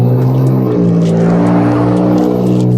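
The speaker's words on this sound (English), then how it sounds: "Fix your muffler!" A loud car with a faulty muffler revving nearby: a deep, rough engine roar that holds steady and close for a few seconds.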